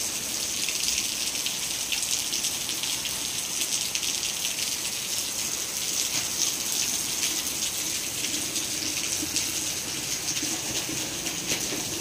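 Rain falls steadily outside a hostel, an even, unbroken hiss that carries evenly throughout with no voices and no change in intensity.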